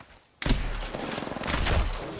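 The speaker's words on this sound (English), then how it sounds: "I'm taking shots" Gunfire in Apex Legends, a sudden loud burst of rapid shots cutting in after a quiet moment, followed by a second burst of firing a second later.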